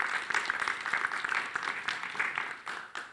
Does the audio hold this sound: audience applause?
yes